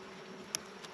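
Honey bees buzzing steadily at an open hive, a low continuous hum close by with a faint click partway through.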